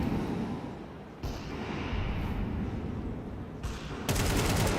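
Gunfire during a professional Counter-Strike match at IEM Atlanta, dense and loud continuous shooting with a sharp burst of rapid shots near the end and no voices.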